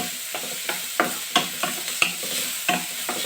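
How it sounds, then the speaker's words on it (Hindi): Onions sizzle in hot oil as they are stirred, with soft rhythmic scraping strokes repeating every fraction of a second, fairly quiet and close. "जब तेल गरम हो जाए तभी प्याज डालें।"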